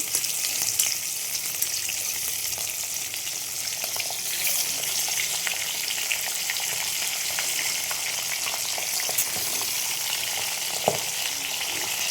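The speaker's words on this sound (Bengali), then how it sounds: "এদিকে তেলটা গরম হয়ে গেছে, সর্ষের তেল দিয়েছি আমি। মাছগুলো ভেজে নেব।" Pabda fish frying in hot mustard oil, a dense, even sizzle that carries on steadily at close range with only occasional faint pops.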